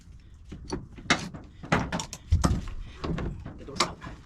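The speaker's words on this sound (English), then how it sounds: "The door's out." Rear door of a Ford Econoline van being lifted off its hinges, with loud close metallic clunks, scrapes and rattles in irregular bursts. A voice may be faintly mixed in.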